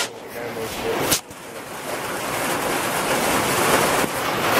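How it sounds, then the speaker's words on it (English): Steady broadband hiss of rain on a tent in the mountains, continuous and fairly loud, with a brief dip near the start and no voices. "You can hear the rain outside."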